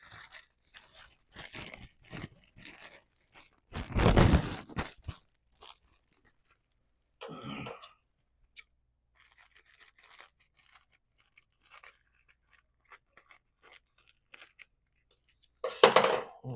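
Scattered scratchy tearing and crinkling noises of tape torn and applied to a plastic bag on a Triumph T140V motorcycle come in short bursts, with one loud rip near the middle and another at the end, separated by quiet gaps.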